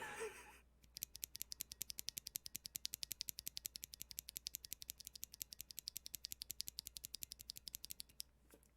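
Unlubricated linear keyboard switch with a Blue Velvet-style stem, pressed over and over in a quick, even rhythm, each sharp click carrying a springy metallic ping, close and isolated with no talk.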